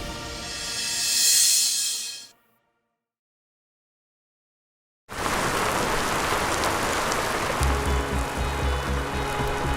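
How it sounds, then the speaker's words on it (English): Rain beginning to fall during an Arizona storm, a dense hiss of drops on surfaces that returns steady and loud after a brief silent gap, with a low rumble beneath. "This is the third warning now that we've gotten just since the rain has started coming down."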